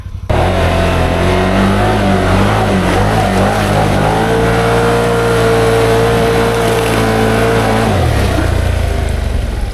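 Can-Am Outlander XMR 850 ATV on 30-inch Aztex XX tires pushing through a mud hole, its engine droning loud and close with a sustained rev that climbs in pitch, then drops back near the end.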